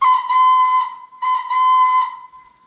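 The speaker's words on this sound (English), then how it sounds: "his whistle is actually similar to Charlie's" A steam locomotive whistle, likely a model railway engine, blows two loud, clear blasts of about a second each with a short gap between them, with no other sound behind it.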